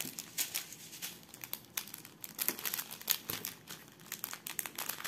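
A crinkly plastic packet of diamond painting supplies is handled and pulled open, producing irregular close crackling and rustling bursts that continue throughout.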